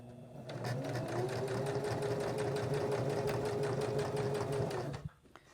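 A sewing machine stitching fabric runs in a steady, fast mechanical whir for about four seconds, close and even, then stops abruptly.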